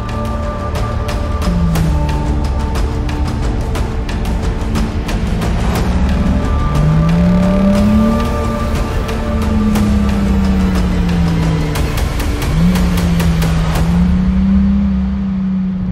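A 2022 Toyota Supra 3.0 accelerates hard, its engine note climbing close and loud through several gear changes with brief dips between pulls, over about sixteen seconds with no talking.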